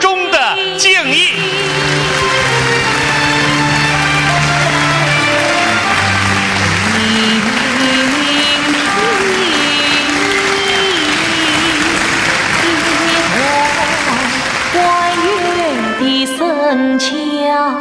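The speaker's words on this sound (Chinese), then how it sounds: "让我们再次用热烈的掌声表示我们由衷的敬意" Warm audience applause rises at a 2008 Yue opera showcase, steady and full-bodied throughout, while sustained musical tones and a voice carry above the clapping before it cuts off near the end.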